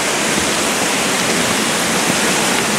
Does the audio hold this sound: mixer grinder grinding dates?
no